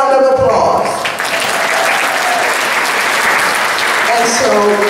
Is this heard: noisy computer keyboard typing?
no